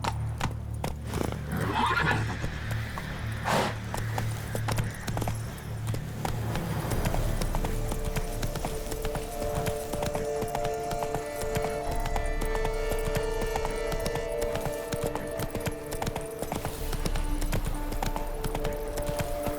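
The horse Roach gallops in The Witcher 3, hooves clip-clopping in a fast steady rhythm with a whinny early on, close and continuous with no talk.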